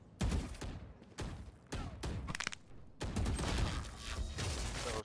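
Loud bursts of gunfire from a first-person shooter game, with several rapid volleys separated by short gaps and a longer sustained stretch near the end.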